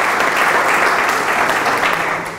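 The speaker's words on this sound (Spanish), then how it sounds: "vaya ese aplauso dedicado a Sergi Escrivá" An audience at a tenth-anniversary commemoration ceremony applauds in a steady, loud, dense wash of clapping that holds evenly throughout.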